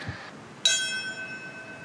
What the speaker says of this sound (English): Bells tolling across the nation to mark 22 years since the terrorist attacks on September 11th.